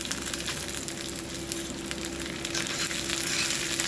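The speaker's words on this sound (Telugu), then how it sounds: "దానిలో ఎండుమిర్చి కూడా వేసి ఫ్రై చేద్దామండి" Dried red chillies frying in hot oil with chana dal, urad dal and mustard seeds in a pan for gongura chutney, giving a continuous close crackling sizzle with occasional pops and stirring.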